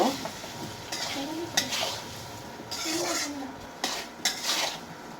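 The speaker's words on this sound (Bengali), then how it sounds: "এখন আমি এটাকে নেড়ে চেড়ে নেব" Olive pickle with garlic is stirred in a pan, giving repeated scraping strokes of a spoon against metal over a low sizzle at an irregular, unhurried rhythm.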